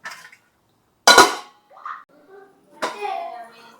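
A lid clanks down sharply onto a pot of boiling tamarind fish curry, followed by softer handling knocks, with a voice briefly heard between the sounds.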